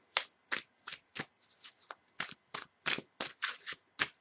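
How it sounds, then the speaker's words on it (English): A deck of tarot cards is shuffled by hand in about a dozen crisp riffling bursts, evenly paced and close, each a sharp papery flutter separated by brief pauses. "Right, 3 more shuffles."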